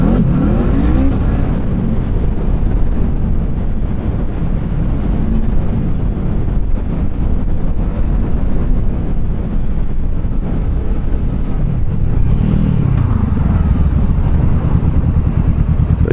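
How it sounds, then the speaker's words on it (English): Honda CBR500R motorcycle speeding up on the road after leaving work, a steady loud engine drone with rising pitch heard from the rider's position under heavy wind rush, no talking. "just cruising out of work, speeding up, driving like a crazy man."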